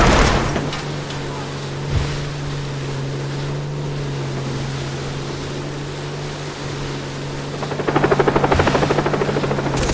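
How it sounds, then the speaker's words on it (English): A helicopter in Far Cry 3 gameplay gives a steady droning whir amid engine and water noise, with a rhythmic rotor chop growing louder near the end. "helicopter! A chopper!"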